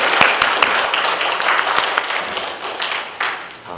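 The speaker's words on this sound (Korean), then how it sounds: "이렇게 우리 하나님께 영광의 박수와 우리 찬가대 감사의 박수." A church congregation applauds its choir with dense, loud clapping that runs throughout and fades slightly toward the end.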